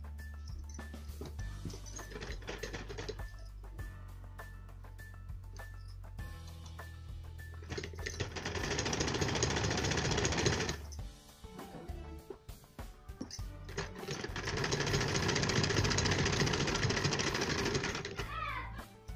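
A sewing machine stitching a double-folded bishop sleeve, in bursts of fast rhythmic whirring separated by quieter pauses filled with handling and faint clinks.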